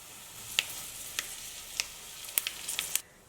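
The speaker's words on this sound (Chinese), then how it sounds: "然后呢，再加入50克热油" Hot oil is poured over chili powder, pepper, Sichuan pepper, salt and white sesame, producing a soft hiss broken by several sharp crackling pops, close and quiet, with no talking.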